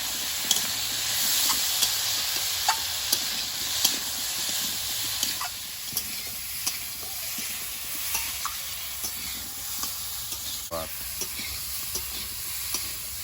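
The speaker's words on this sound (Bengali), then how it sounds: "জিরে গুঁড়ো ভালোভাবে কচুটা কষিয়ে নেবো" Taro pieces with cumin powder and ginger are sautéed in a pan, a continuous close sizzle broken by frequent sharp stirring knocks and scrapes of the spoon, with no talk.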